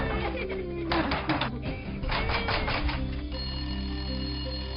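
An old-style telephone bell ringing indoors in repeated bursts of bright metallic trills, fairly close and moderately loud, with a low steady background hum beneath.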